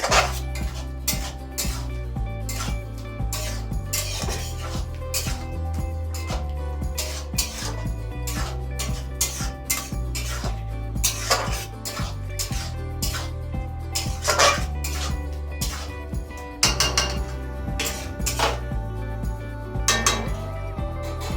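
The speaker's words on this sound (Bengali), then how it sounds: "আলতো নেড়ে নিচ্ছি।" Banana flower and prawn curry stirred in a pan with a metal spoon, giving repeated clinks and scrapes against the cookware over a steady background hum, close and continuous.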